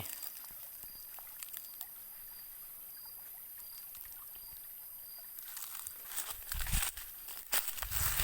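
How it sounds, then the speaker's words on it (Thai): A forest stream in a Lao forest reserve flows with a steady, soft rushing hiss that swells louder and rougher toward the end, with faint rustling and handling noise nearby. "น้ำไหลเย็นตลอดปี"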